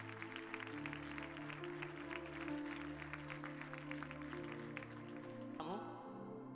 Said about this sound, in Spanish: Ese aplauso si es para Cristo, dáselo más fuerte.